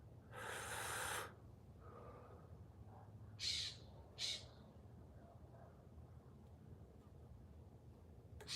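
A scrub jay gives two short, harsh, raspy calls in quick succession, fairly close but not loud. A breathy burst comes earlier, and a quiet outdoor background runs throughout.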